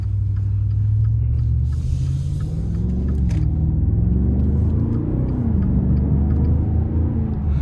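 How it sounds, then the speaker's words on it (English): A 2023 Maserati Ghibli Trofeo sedan's V8 drones low and steady from inside the car, its pitch rising and dropping as it shifts down through gears, with continuous road rumble underneath. "listen to those downshifts"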